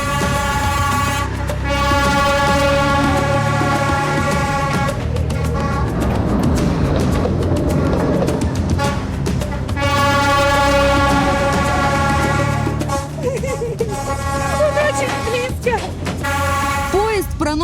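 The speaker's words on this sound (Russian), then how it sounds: "Поезд проносится буквально в полуметре от лица." A train passes within inches of houses lining Train Street, its horn blaring in long, loud sustained blasts over the rumble of the passing cars, with voices audible in the background.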